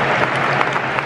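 Dense, steady applause fills an England versus Spain football stadium at half-time, a large crowd clapping continuously from all around at full volume.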